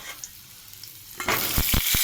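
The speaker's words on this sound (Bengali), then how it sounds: "এরপর আমি পটলগুলো এক এক করে ছেড়ে দেবো" Pointed gourd pieces dropped one by one into hot oil with reddened chillies, setting off a loud sizzle that jumps up after a quiet start and keeps crackling with stirring bursts to the end.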